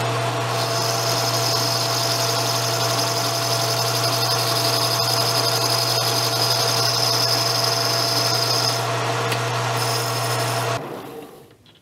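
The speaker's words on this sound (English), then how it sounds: "So now we bore it out to fit the, I guess, the pivot." A machine tool bores out a motorcycle brake lever to fit its pivot, a loud, steady whine with a low hum running nearly twelve seconds before spinning down at the end.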